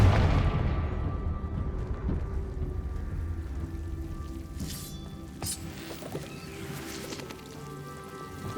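A loud low boom from the Confringo blasting spell in Hogwarts Legacy opens with a heavy explosive burst, then decays into a long rumbling, crackling tail with scattered debris-like sounds.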